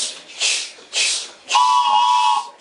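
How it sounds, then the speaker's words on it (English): Toy train whistle with a vibrating reed, blown three times nearby: two short breathy hoots followed by a longer, steadier tone with a clear pitch. "This is my train whistle"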